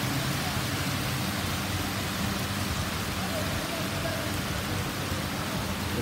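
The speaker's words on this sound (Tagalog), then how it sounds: "Nakalakas po ng ulan dito sa Dubai" Heavy rain pours down in Al Rigga, Muraqqabat, Dubai in a steady, dense roar, with faint low rumbling beneath the constant downpour.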